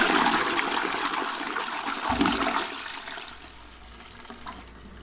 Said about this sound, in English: So that sounds like a toilet flushing.